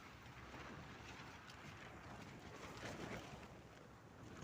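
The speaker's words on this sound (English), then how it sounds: "it suddenly got windy" Strong Sunday-morning wind gusts in Torrevieja, a continuous broadband roar buffeting the microphone, rising and falling slightly without any talk.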